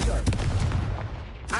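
A Confringo blasting spell going off in Hogwarts Legacy, a loud, dense, rumbling explosive burst that fills the clip and fades slightly, with game sound around it.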